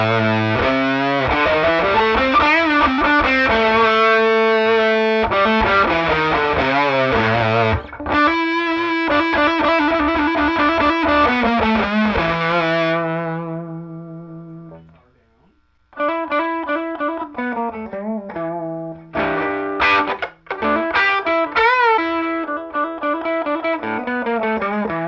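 Electric guitar played through a thick, buzzy fuzz distortion with octave overtones. Riffs and sustained chords ring loudly, with a brief fade to near silence midway.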